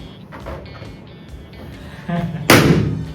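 A balloon bursts during a balloon-popping challenge: one loud, sharp pop near the end, after a brief thump and light handling rustle over quiet room noise.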